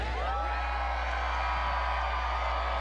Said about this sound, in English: How about some audience reaction?